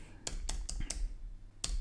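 Keys tapped on a computer keyboard while entering a spreadsheet formula in Excel: five sharp, close keystrokes in an uneven rhythm with gaps between them, over a faint steady hum and no talking.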